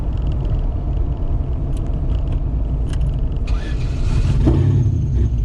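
A turbocharged LS engine in a Camaro idles roughly and loads up with fuel, a loud steady close rumble with a brief rising surge and metallic rattle near the end, no talking.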